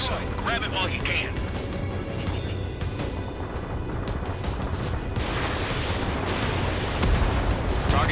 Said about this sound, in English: Anti-ship missile fired.